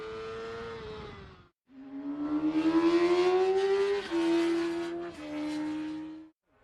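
Valentino Rossi's racing motorcycle accelerating hard on track, its engine note climbing through gears with brief drops at each shift, loud and close, then a short fade.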